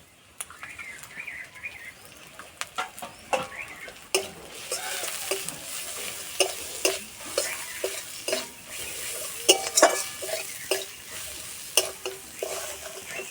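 Ground spices, including chilli powder and cumin powder, sizzle in a hot pan for egg korma while a spoon scrapes and stirs them in irregular bursts, close up with no talking.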